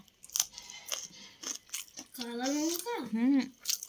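Crunchy bites into a raw green chili, sharp and close, come in short bursts alongside a voice making drawn-out sounds.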